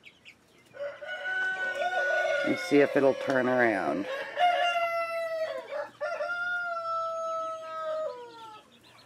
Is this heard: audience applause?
no